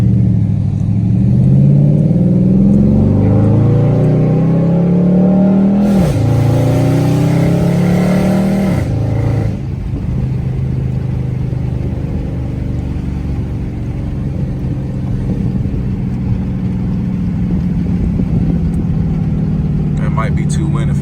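A 2012 Dodge Charger SRT8 driven in manual mode, its engine revving hard and climbing through a gear, then settling into a loud, sustained drone with wind noise in the cabin.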